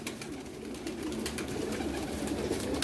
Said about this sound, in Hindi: ये बोस जी के फेवरेट कबूतर हैं जी जोंसरे कबूतर